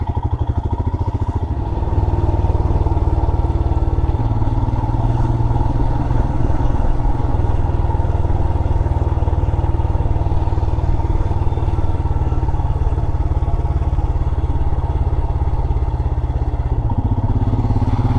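A motorcycle climbs a mountain road toward Pakkasooran Peak near Coonoor in the Western Ghats, its engine droning steadily and loudly throughout with occasional clattering thumps from the road.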